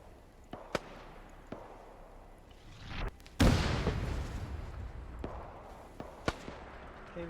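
Arma 3 gunfire rakes a KV tank in a snowy Raate Road battle: scattered sharp distant cracks, then one loud close blast with a rumbling tail, followed by more sporadic pops.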